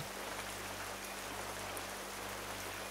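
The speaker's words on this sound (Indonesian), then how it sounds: "Dan hujan turun deres." Heavy rain pouring down outside a rented house at night, a constant even wash of noise, fairly faint and uninterrupted, with no one speaking.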